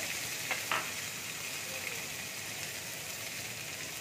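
Cumin, chili and garlic paste frying in hot oil in a pan, a soft, even hiss at low volume with a couple of faint clicks near the start, no voices.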